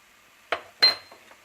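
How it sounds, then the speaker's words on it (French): Chopped apples being stirred with brown sugar, salt and cinnamon in a pan, giving a few distinct clinks and scrapes of a utensil against the pan, close and isolated, with quiet gaps between strokes. "Je mélange bien le tout"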